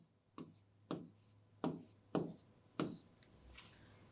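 Chalk or marker strokes writing numbers on a board in a classroom, five or six short scratchy strokes in an uneven rhythm, close and fairly quiet with no talk.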